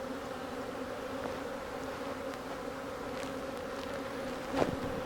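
Honeybees buzz at an open beehive while swarm cells are used to make splits, a steady droning hum with a few louder individual bees passing close, heard alone without talking.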